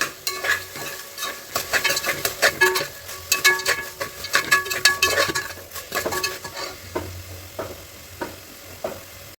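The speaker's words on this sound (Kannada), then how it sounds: "ಇವಾಗ ಇನ್ನೊಂದು ಸಲ ಚೆನ್ನಾಗಿ ಮಿಕ್ಸ್ ಮಾಡ್ಕೊತೀನಿ" Tomato and onion frying in a pan while a spoon stirs them. Repeated loud metallic scrapes and clinks ride over a steady background sizzle.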